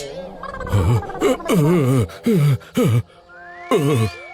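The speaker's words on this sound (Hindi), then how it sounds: "सेठ अपने पेट की भूकंप जैसी आवाज सुनकर उठ खड़ा होता है।" A hungry cartoon man's stomach growls in loud, exaggerated bursts, with several warbling, gurgling rumbles in quick succession, briefly broken by quiet gaps.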